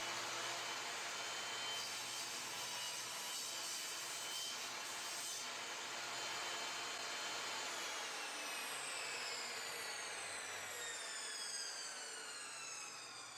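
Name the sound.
miter saw cutting wood to length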